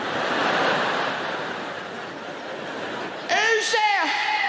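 A voice on a live comedy stage imitates a fridge suddenly making noise at three in the morning, a short burst of warbling, wavering vocal tones rising over the crowd's hiss of laughter and applause.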